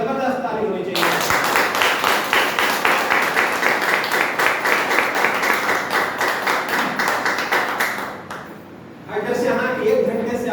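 Loud, close applause with rhythmic clapping from an audience at a health awareness program fills most of the stretch, fading near the end before a voice resumes speaking.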